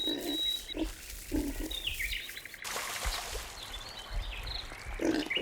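A wild boar grunts in a series of short, low, close grunts against a background of bird chirps and other wild sounds.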